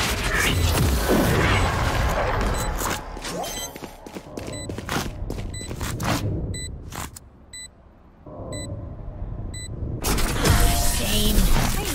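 Loud bursts and booming blasts mix with Valorant sound effects after a spike plant, including sharp beeping tones, with a quieter stretch in the middle before the noise swells again.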